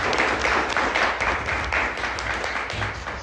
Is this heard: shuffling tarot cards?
no